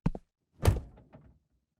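Door handled in a rush on the way out: a sharp double thunk, then a heavier bang with a short rattle and a softer knock settling, close and alone with no voices.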